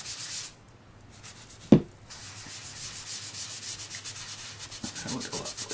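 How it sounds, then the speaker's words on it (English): A craft sponge is daubed and rubbed into ink in soft, close scrubbing strokes, with one sharp tap near the middle, then quicker rhythmic rubbing toward the end, and no talking. "I still like to daub that and get that worked into my sponge real good."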